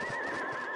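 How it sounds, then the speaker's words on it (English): A horse whinnies once in a radio drama, a brief, wavering call that stands alone with no talk over it. "they both heard the sound of a horse's whinny."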